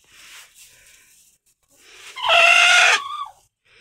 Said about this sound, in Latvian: Vistas ir dusmīgas